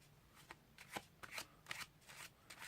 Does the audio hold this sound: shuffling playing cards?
yes